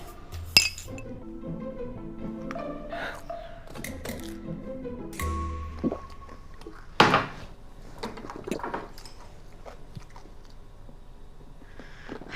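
Drinking glasses clink together in a toast, several bright close chinks and clatters spread across a quiet room, with softer thuds between them.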